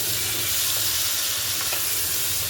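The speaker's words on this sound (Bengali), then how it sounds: "আলুটা ভাজা ভাজা হয়ে এলে আগে থেকে রাখা কুচুনো টমেটো দিয়ে দেবো" Potatoes frying in oil with chopped tomatoes for a Bengali tengra fish curry, giving a continuous dense sizzle and hiss at an even level throughout, with no voices.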